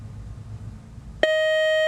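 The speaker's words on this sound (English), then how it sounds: "that buzzer is the end of our match" After a moment of quiet room noise, a loud electronic quiz show buzzer sounds abruptly, ending a match, and holds a steady, harsh tone.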